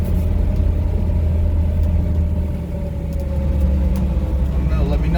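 A 1964 Chevrolet Impala rolls over road bumps, its steady low engine and road rumble filling the cabin throughout, with a brief dip midway and faint rattles near the end.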